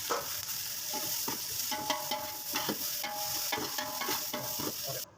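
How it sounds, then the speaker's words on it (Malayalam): Food frying in a pan with salt and curry leaves for a kappa biryani, stirred steadily so a continuous close sizzle carries repeated scraping strokes of the spoon throughout, with no talking. "എന്നിട്ട് നല്ലോണം ഇളക്കി കൊടുക്കുക."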